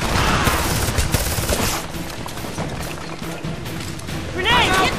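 Rapid gunfire in the video game Homefront, a dense clatter of shots and impacts in a battle scene, loud and continuous, with voices shouting over it.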